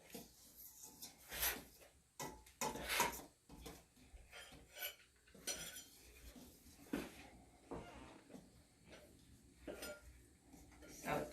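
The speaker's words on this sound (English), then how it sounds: "I'm just going to mix it" Flour and baking ingredients being mixed in a bowl, with quiet, irregular clinks and knocks of a utensil against the bowl in a soft, stop-start rhythm.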